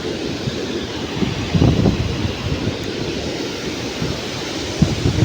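Stormy wind and rain during a cyclone outside a house give a constant, rumbling roar with gusty swells and no clear voices.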